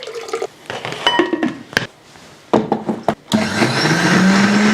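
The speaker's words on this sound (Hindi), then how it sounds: "इसको भी हम हल्का सा पानी डाल के ग्राइंड कर लेते हैं" Electric grinder blending chutney ingredients with a little added water: loud, whirring motor bursts start and stop in short pulses, then a steadier, rising grind runs to the end.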